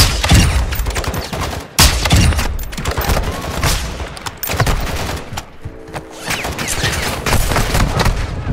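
Heavy gunfire in an online shooter game, with dense bursts of automatic fire and rapid shots crowding together, loud and close, broken by a few brief pauses.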